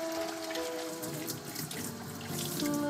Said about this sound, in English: I like to rinse it with hot water in between these steps.